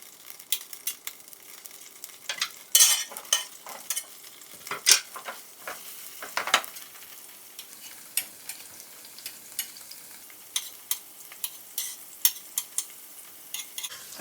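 Ginger garlic paste frying in oil in a pot, a soft sizzle under irregular sharp clicks and scrapes of stirring and kitchen work, close and moderately loud.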